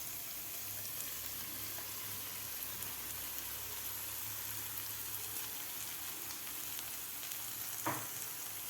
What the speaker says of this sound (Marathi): आता आपल्याला व्यवस्थित हे परतून घ्यायचे आहे. थोडंसं ड्राय होईपर्यंत आपल्याला हे मिश्रण परतून घ्यायचं आहे.